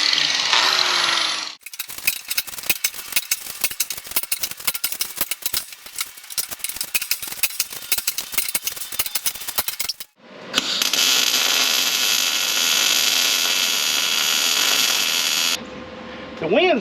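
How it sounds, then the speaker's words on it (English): Stick arc welding outdoors on a windy day, giving a long dense run of crackling, sputtering buzz with short pauses between bursts and a steadier, harsher hiss near the end, close and loud. "so I had to break out some sticks, do a little arc welding here."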